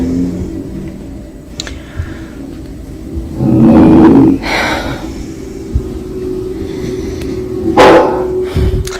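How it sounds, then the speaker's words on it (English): Dog growling and barking indoors, two loud close bursts a few seconds apart over a steady low hum and background rumble. "Even the family dog was freaked out by this. They growl and bark as if sensing something dangerous"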